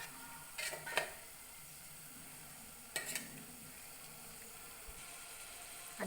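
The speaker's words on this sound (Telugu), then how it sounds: "ఆనియన్స్ వేగినవి, దీంట్లో మసాలా పేస్ట్ వేసుకుందాం" Masala paste goes into fried onions in a pan for a beetroot coconut masala curry, giving a soft, steady sizzle broken by a few brief stirring scrapes and clicks.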